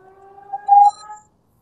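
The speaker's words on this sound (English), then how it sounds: "I'm muting because the fire alarm's going off." A fire alarm sounds in short electronic tonal beeps, loud and close, with one stronger sustained tone near the middle before it cuts off to silence.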